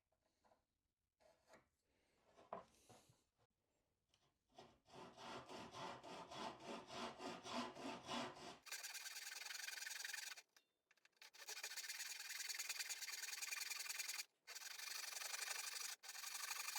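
A Japanese hand saw cuts through wood during work on an antique table extension: quiet initial scratches, then bursts of fast, rhythmic rasping strokes with brief pauses between runs.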